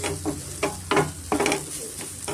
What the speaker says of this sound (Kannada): ಖಾರ ಪುಡಿ ಧನಿಯಾ ಪುಡಿ ಗರಂ ಮಸಾಲ ಜೀರಿಗೆ ಪುಡಿ ಇಷ್ಟನ್ನು ನಾನು ಸೇರಿಸಿ ಸ್ವಲ್ಪ ನಾನು ಮಿಕ್ಸ್ ಮಾಡ್ಕೊತೀನಿ